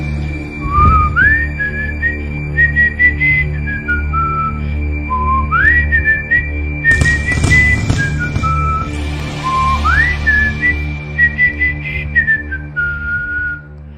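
Clay flute playing a simple wavering melody of short breathy phrases, loud and close over a steady low musical backing, with no talking.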